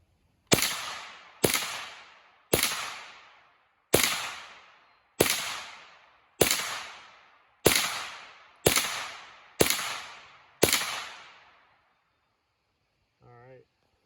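Ten sharp rimfire rifle shots fired at a target, evenly spaced about a second apart, each crack loud and close with a short decaying echo, followed by silence and a brief voice.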